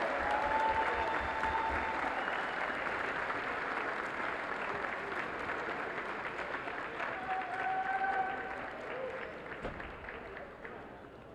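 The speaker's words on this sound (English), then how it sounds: "One more big round of applause." Crowd in a basketball arena applauding seniors after a women's college game, sustained clapping and cheering that slowly fades, with an announcer's voice over it.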